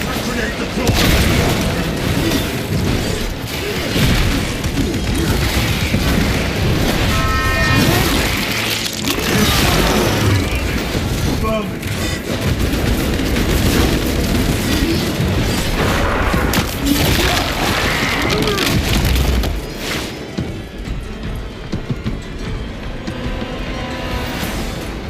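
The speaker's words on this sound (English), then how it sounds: "Grenade deployed!" Loud grenade blast in Space Marine 2 combat, a heavy boom within dense battle din of gunfire and crashes, with voices calling out over the chaos.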